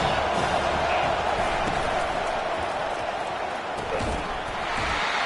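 Stadium crowd noise in the video game College Football 25, a dense, steady roar of a large crowd holding loud and constant throughout with a few faint thumps beneath.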